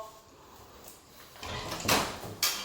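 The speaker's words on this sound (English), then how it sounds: "open the door" A door opens indoors during a rainy day: faint rustling at first, then a louder clatter of the latch and frame, with a sharp knock or bump near the end.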